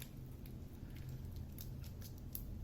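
Thin plastic wrap is peeled off a Logitech C920 webcam, giving faint, close crinkling and soft scratchy rustles in short bursts against a quiet background.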